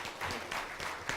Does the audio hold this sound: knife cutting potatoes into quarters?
no